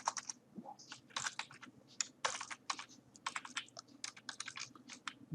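Code being typed on a computer keyboard: a close, quick run of crisp key clicks in uneven bursts with short pauses, alone and quiet.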